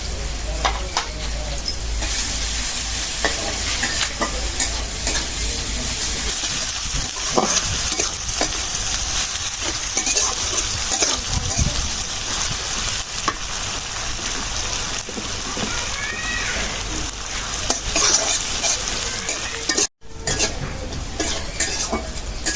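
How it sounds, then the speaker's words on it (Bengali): Onions with a bay leaf frying in oil left over from frying fish, a loud steady crackling sizzle with spatula scrapes and pan clatter throughout, briefly cut near the end. "পেঁয়াজ একটু লাল লাল করে ভেজে নিলাম"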